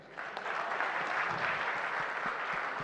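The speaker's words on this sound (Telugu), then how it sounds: "ఈ సినిమా క్లాప్స్ కొట్టరా" An audience at a Telugu film event breaks into applause, dense and sustained clapping filling the hall from a distance, loud and steady throughout.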